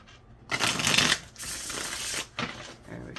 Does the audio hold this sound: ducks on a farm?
no